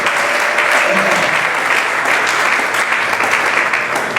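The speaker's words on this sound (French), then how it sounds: "Acclamez pour vous-même" Audience applause at a conference in Kinshasa, DRC: dense, steady clapping from a large crowd, loud and sustained throughout with a faint voice underneath.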